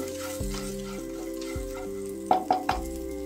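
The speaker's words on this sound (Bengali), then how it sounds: "এবার আরেকবার খুব ভালো করে নেড়ে নেব" Spatula stirring chilli, coriander and cumin powder in a frying pan for masala dosa filling, a steady sizzle with a few sharper scraping clinks near the end, close and alone.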